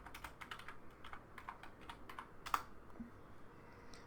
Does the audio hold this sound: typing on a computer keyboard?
yes